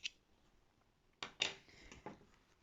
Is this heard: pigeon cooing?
no